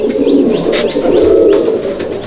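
Black male pigeons in a Madrasi loft, two brothers, coo up close in a dense, continuous throaty murmur, with a few sharper chirps and flutters rising over it.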